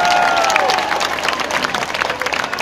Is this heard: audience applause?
yes